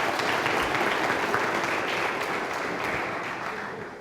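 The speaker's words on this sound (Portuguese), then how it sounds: "Dê uma salva de palmas." A church conference audience applauds steadily, a dense wash of many clapping hands that holds evenly and then slowly fades, with no talking over it.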